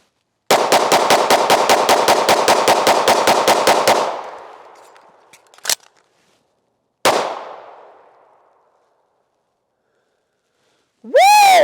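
A handgun drawn from a holster fires a rapid string of about a dozen-plus loud shots, then after a short gap for a magazine change a final shot or two ring out with echoing decay, followed by a voice.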